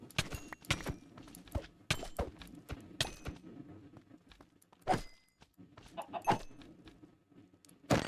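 A chicken in a video game, with short scattered clucks and scratchy footstep-like taps spread irregularly across the clip, fairly quiet and close, with no talk.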